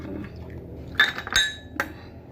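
Ice cubes clinking in a glass, a few sharp bright clinks and knocks in quick succession over a low background hum, close and clear with no talk.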